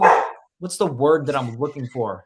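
A dog barks a few times in a room, loud and close, right before someone talks over the line on a sports chat.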